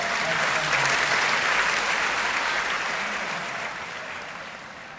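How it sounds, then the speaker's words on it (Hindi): A large audience under a tent pavilion at a Hindi kavi sammelan in Etawah bursts into loud, sustained clapping and cheering that gradually tapers off toward the end. "आपकी जिम्मेदारी है कि एक एक पंक्ति पर आपकी तालियां और जयघोष ऐसा हो जो ये पंडाल थोड़ा हिले"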